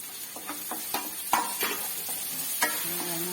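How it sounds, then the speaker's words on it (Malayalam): Chopped onion, green chillies and curry leaves fry in oil in a pan for cutlets, with a soft steady sizzle broken by several clacks of a spoon stirring against the pan. "ചെറുതായിട്ടൊന്ന് നമുക്ക് കൊത്തി അരിഞ്ഞ ഒരു സവാള ഇടാം."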